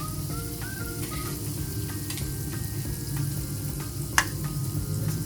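Chicken liver and gizzards, already boiled, sizzle and fry steadily in a pan with occasional stirring clinks, close and continuous throughout.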